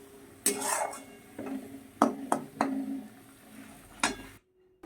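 Cauliflower leaves stirred in a pan, a series of close metallic scrapes and clinks of a spatula against the pan, irregular strokes with short pauses, ending in near silence.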